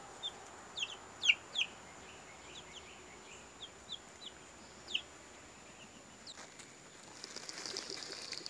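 Homestead chickens cluck in short scattered bursts, a few sharper calls standing out early, faint and somewhat distant over quiet outdoor background that gets a little busier toward the end.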